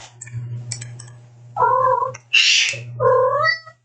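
A cat in heat lets out two drawn-out, loud yowls close by, harmonic wails broken by a sharp hiss-like burst, with a low steady hum underneath and a person shushing briefly.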